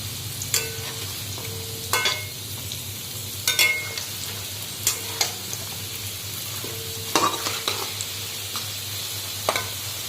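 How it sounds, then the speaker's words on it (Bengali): Chicken pieces frying in refined oil in a pan, a steady soft sizzle under repeated rhythmic stirring scrapes and clinks of a utensil every second or so, close by and without talk. "এই যে চিকেনগুলো সব মানে রিফাইন তেলে ভেজে নিচ্ছি আগে"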